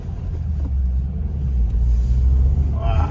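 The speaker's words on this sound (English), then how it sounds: "Okay, so we're driving this WRX." Interior of a 2022 Subaru WRX with manual transmission driving along, a steady low engine and road rumble with wind noise, close and continuous.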